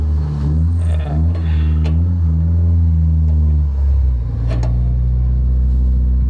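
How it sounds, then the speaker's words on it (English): A car with a welded differential drifts around a corner, the engine revving loud and close with a falling then steady rumble and some clatter. "Drifting around the corner with his welded diff."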